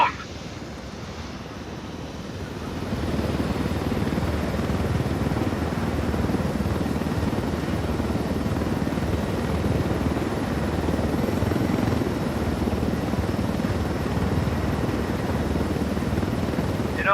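A helicopter in the video game Ghost Recon Wildlands roars with a steady, loud rotor and engine drone that swells in after a quieter first few seconds and holds for the rest.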